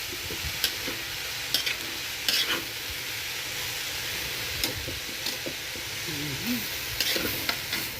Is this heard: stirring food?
yes